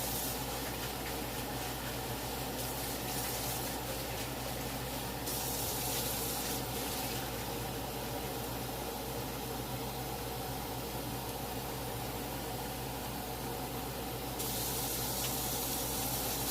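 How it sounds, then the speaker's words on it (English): Water pours steadily into a pan of bubbling gravy for pork chops, a continuous close hiss and splash that stays even throughout with no talking. "And I'm going to add more water."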